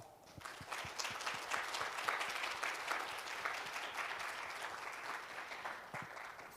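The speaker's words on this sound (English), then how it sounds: "please give the SDD a big round of applause" Audience applause at the Seoul Defense Dialogue 2021 defense conference, sustained crowd clapping at moderate distance, rising quickly and holding evenly throughout.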